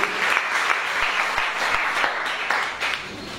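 A church conference congregation breaks into steady applause, with dense clapping holding an even level throughout and no talk over it.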